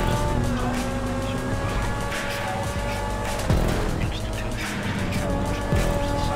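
Car engine revving and holding steady through a corner in a Grand Theft Auto V race, with a loud, continuous drone and brief shifts in pitch, under excited talk.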